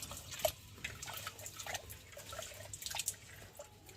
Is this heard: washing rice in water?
yes